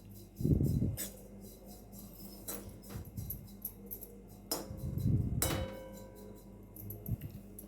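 Neem flowers are stirred and fried in a pan, with a spoon scraping and clinking against the metal in scattered bursts and a low sizzle beneath.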